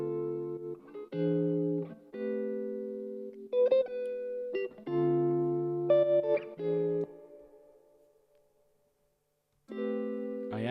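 A melodic music track treated with RC20 wobble, slight distortion and reverb, its pitched synth or guitar notes warbling and smeared, with a reverberant tail that fades into near silence before the phrase returns.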